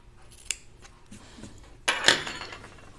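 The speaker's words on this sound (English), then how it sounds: "So I just sewed this at 1/4. I'm going to trim it kind of way down." Fabric scissors trim a freshly sewn quarter-inch French seam allowance on a dress, giving a couple of short, close snips that rise out of a quiet room.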